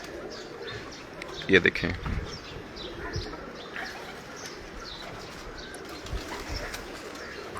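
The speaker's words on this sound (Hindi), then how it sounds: "ये देखें माशाल्लाह बहुत ही ज़बरदस्त हीनो कबूतर आपके सामने हैं" Hino pigeons at a breeder's loft coo softly in low, repeated calls with a few chirps and wing flutters, under someone talking close by.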